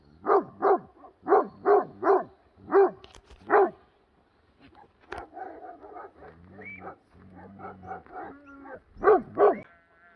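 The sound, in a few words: dogs barking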